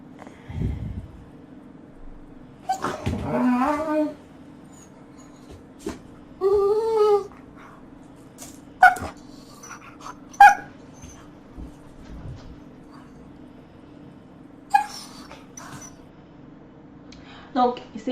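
Dogs, including a female, playing during a training session give occasional short whimpers, yips and growly vocalizations, spaced out over a steady background hum while someone talks.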